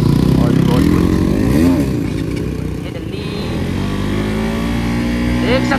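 A motorcycle engine revs loud and close during a one-wheel stunt ride toward Hitech City, rising and falling in pitch under a steady roar, with voices mixed in.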